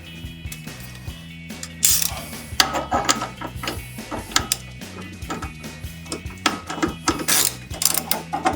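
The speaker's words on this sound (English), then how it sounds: "use the ratchet to drive it up into the hole" Rapid ratchet clicking in repeated bursts as a bolt is driven into a front strut on a 2007-2018 GMC Sierra 1500 lift install, close and clear, with small metallic knocks between strokes.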